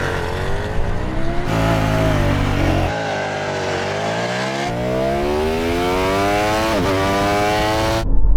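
An Audi RS car and a Ducati motorcycle accelerating hard side by side in a drag race, engines roaring loudly up through a series of rising gear pulls with abrupt shift breaks, close and continuous throughout.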